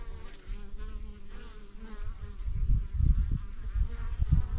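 A dense, steady insect buzz of many honeybees close by at a hive, with deeper low hums swelling louder toward the end.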